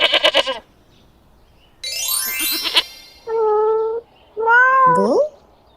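A cat meows in a run of close, clear, loud calls, some short and some drawn out and rising, with quiet gaps between them.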